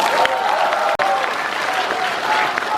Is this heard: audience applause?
yes